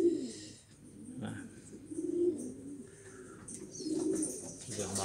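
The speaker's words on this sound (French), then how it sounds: "vous remarquerez qu'ils sont toujours calmes, mes pigeons" Pigeons in a loft coo softly and repeatedly, with low rolling calls rising and falling, plus a few faint chirps and rustles nearby.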